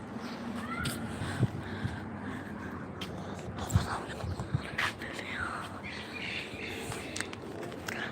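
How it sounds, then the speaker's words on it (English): A domestic cat meows a few times outdoors in rainy weather in South Africa, the calls faint and intermittent beneath a person talking and scattered bird calls. "Oh, see the other cat."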